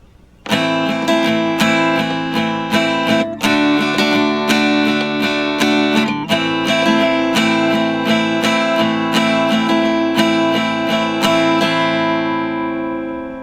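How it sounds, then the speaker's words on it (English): Acoustic guitar strummed in a steady down, down, up, down pattern of quick strokes, close and bright, ending with a final chord that rings out and fades. "we're going to strum that pattern by going down, down, up, down"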